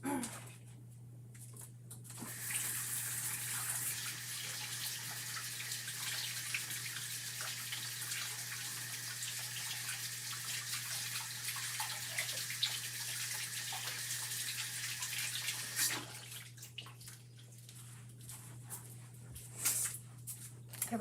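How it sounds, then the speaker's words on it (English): A tap runs water while a paintbrush is rinsed: a steady rush of flowing water for most of the stretch, with quieter handling noises before and after. "I'm going to go rinse my brush"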